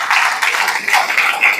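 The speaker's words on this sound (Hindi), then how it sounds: "दोनों के लिए बहुत जोरदार तालियां।" A crowd applauds two contestants at a live event, a loud burst of mixed clapping that fills the brief moment without any voices over it.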